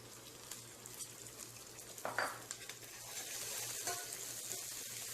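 Onions frying in a pan with ginger garlic paste just added, a steady close sizzle with a brief stirring scrape near the middle.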